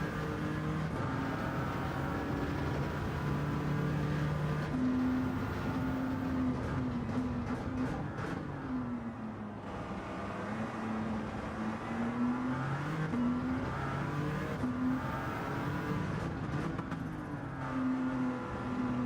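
A Peugeot race car in a racing video game drives continuously, its engine droning and rising and falling in pitch through gear changes and corners, steady and close, with no talking.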